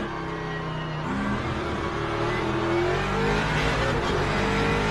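A race car in the Le Mans Ultimate racing game, its engine revving loud and steady with rising and shifting pitch as it accelerates through gears, no talking over it.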